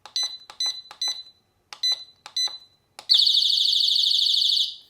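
Six short keypad beeps come in a rhythmic series, then a Mosaic MH306V alarm siren set to low volume lets out a steady, shrill warbling tone that holds for nearly two seconds.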